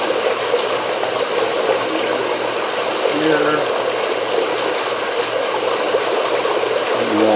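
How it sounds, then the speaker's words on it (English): Water runs steadily in the background, a broad continuous rushing hiss, with a brief spoken word and faint low hums over it. "You'll just hear the water in the background."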